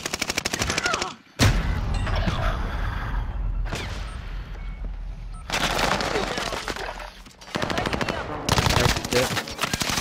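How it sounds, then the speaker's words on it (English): Rapid automatic gunfire rattles through a video game firefight in long loud bursts, broken by short pauses and a heavy boom, with voices talking over the shooting. "We're getting shot from everywhere"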